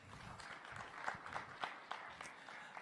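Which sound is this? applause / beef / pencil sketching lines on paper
applause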